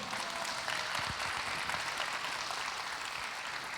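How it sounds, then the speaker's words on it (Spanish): Congregation applauding during a Spanish-language church service on prayer, a steady wash of clapping heard at moderate distance, fairly quiet and continuous throughout. "Denle un aplauso al Señor."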